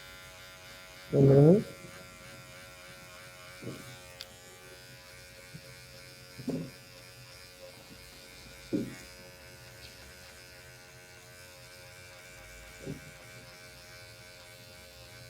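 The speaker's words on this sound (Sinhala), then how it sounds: "ඊළඟ ස්ටෙප් එක අපි මෙන්න මේ වගේ ට්‍රිමර් එක යූස් කරලා" An electric hair trimmer buzzes steadily and faintly while it cuts a schoolboy's hair at home. A voice speaks in a few brief bursts over the continuous motor hum.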